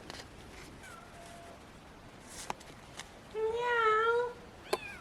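A cat meows faintly in the background of an outdoor garden setting, first with soft brief calls and then one clearer, longer drawn-out meow toward the end. A few light taps are also heard, and no one talks.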